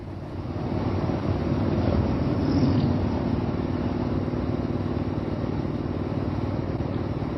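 A motorcycle cruising at a relaxed, steady pace along a canyon road, its engine a constant low drone with wind rush throughout, no one speaking.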